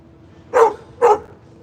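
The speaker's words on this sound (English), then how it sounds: "How long you gonna bark?" A dog barks twice in quick succession, two loud, close, sharp woofs about half a second apart, on an Atlanta street.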